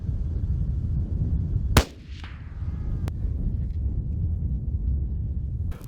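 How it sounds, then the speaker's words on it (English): A single sharp rifle shot cracks out while the rifle is sighted in outdoors in the Mongolian mountains, with a fainter second report soon after, over low wind rumble. "we got the rifle all sighted in"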